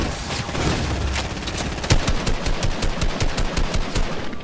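Rapid gunfire in a video game, the speaker's chosen weapon a shotgun, with dense repeated blasts throughout and a sharp louder shot near the middle, followed by a steady rhythmic string of reports.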